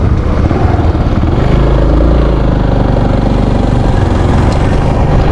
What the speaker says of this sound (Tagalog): So motor lang kami ngayon mga kasuelo